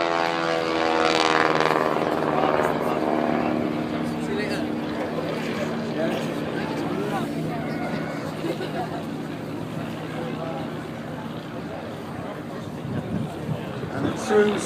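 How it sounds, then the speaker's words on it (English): Vintage WW1 biplanes, a Sopwith and a slower BE observation biplane, drone overhead at an anniversary air display, their propeller engines a steady rumbling hum with a crowd murmuring beneath and a commentator speaking. "with Bruce on the tail of the Sopwith, the BE trying to keep pace, but that slower, less agile observation biplane."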